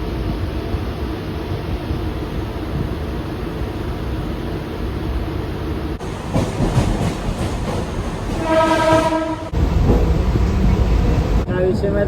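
Mumbai local train running near Vashi, a loud steady rumble with rattling carriage noise that grows rougher and louder midway, a brief horn-like tonal stretch, and faint talk in the background.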